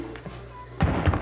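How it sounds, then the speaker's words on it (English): A heavy wet thud from a scene of the vampire drama series Interview with the Vampire, landing suddenly after a quiet stretch, a loud dull impact followed by a couple of further muffled thumps. "That wet thud"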